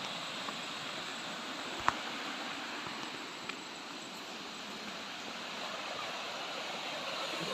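Small waterfall outdoors, a steady broadband rush of falling water at moderate level with a couple of faint clicks, no talking.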